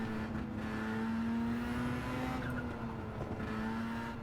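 An Amemiya Mazda RX7 race car in Gran Turismo 7 on the Nordschleife, its engine holding a steady droning note with brief tire squeal and shifts in pitch, close and alone without talk.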